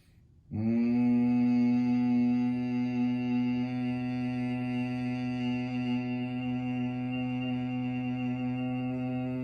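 Bhramari humming bee breath during a yoga class, a steady voiced hum that starts suddenly and sustains evenly for several seconds, fading slightly, with no talk.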